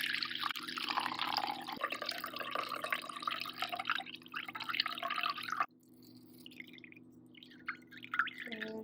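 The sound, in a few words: pouring water into a measuring cup with rice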